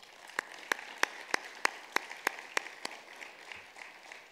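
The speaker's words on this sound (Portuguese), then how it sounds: "Uma salva de palmas, por favor, gente." Sparse, evenly spaced claps ring out from a small audience at a specialised journalism forum in 2019, roughly nine sharp hand claps over a few seconds against quiet room noise, fading afterward.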